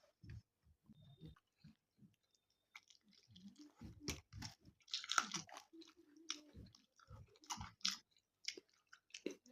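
Close, wet chewing and smacking while eating a meal of rice, fish besara and saag, with soft irregular bites and mouth sounds and no talk.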